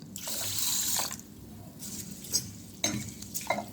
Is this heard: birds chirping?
no